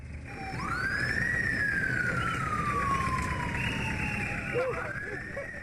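An ambulance siren wails steadily, rising and then slowly falling in pitch, heard from a moderate distance over a low rumble of traffic.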